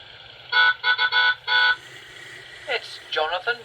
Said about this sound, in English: It's Jonathan Bell in his farm truck.